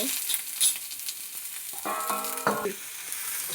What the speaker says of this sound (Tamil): வெங்காயம் போட்டு நல்லா ஃப்ரை பண்ணிக்கோங்க.